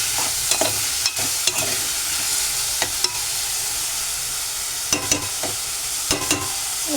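Tomato pieces and salt fry in a pan for a prawn curry, giving a steady sizzle with sharp scraping taps as a spoon stirs at irregular moments. No one talks.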